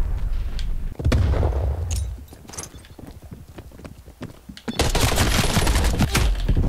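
Rapid gunfire from an XM4 rifle in Call of Duty Black Ops Cold War multiplayer, loud clattering bursts, then a heavy sustained volley near the end with no talk.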